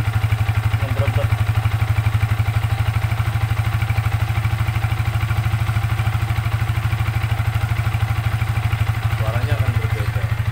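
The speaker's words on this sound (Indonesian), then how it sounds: "Maka sepeda motor ini suaranya juga berbeda, akan memberebet." A Yamaha Vixion motorcycle engine idles steadily and close with its CO mixture raised, giving a continuous uneven, burbling putter with light mechanical clatter throughout.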